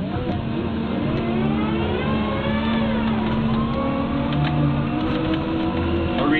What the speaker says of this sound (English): I can hear the engine revving to help me brake and bring me to a controlled stop